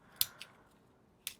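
A begonia plant trimmed with scissors, giving three quick, crisp snips close by in a quiet room.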